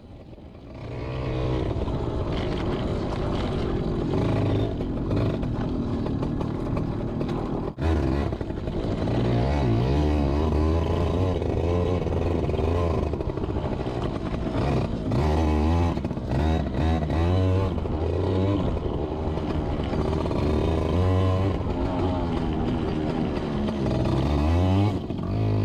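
A Yamaha PW80 dirt bike is ridden on a wet track in the rain, its small engine buzzing and revving up and down close by, with brief throttle changes around a skid turn.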